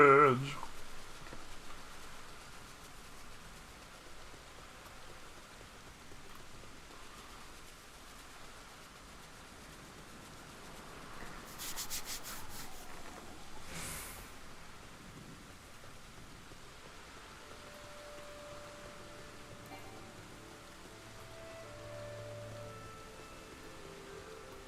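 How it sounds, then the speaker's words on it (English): Steady rain falls in a Final Fantasy XIV game scene, a continuous soft hiss throughout with a brief burst of heavier noise partway through and faint game music tones near the end. "Rain."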